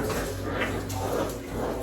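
Several dogs barking, yipping and whimpering as they play near a Thanksgiving smoked turkey cookout, the excited canine noise steady and fairly close over a dense background.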